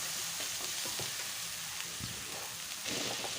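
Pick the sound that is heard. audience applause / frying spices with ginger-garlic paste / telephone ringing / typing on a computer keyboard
frying spices with ginger-garlic paste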